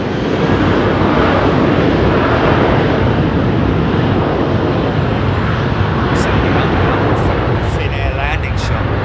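Finnair airliner landing at Heathrow Airport, a continuous loud broadband jet roar with rumbling low end that holds steady throughout, close and dominant with no pauses.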